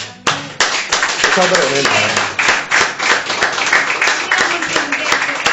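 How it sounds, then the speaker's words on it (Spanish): Church congregation clapping in praise to God, loud rhythmic hand claps in a fast steady beat, with someone speaking and voices rising over the clapping. "Den un aplauso a Dios."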